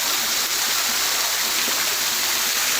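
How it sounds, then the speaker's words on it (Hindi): Water streams pour steadily into a kund, a deep bathing tank at Dharkundi Ashram in Satna, as a continuous rushing, splashing roar that fills the whole clip without any voice over it. "ये देखिए जल की धाराएं"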